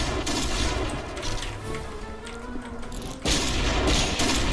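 Rapid bursts of Walther WA 2000 sniper rifle fire in the game Point Blank crack in a dense, overlapping volley, loud and close, with a brief lull before another heavy flurry.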